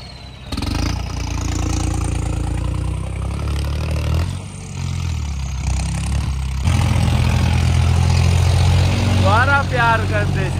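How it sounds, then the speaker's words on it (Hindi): A tractor engine runs loudly throughout with a steady low drone, surging briefly near the middle, while talk and background noise sit over it and a rising whine appears toward the end. "ट्रैक्टर चल पड़ा"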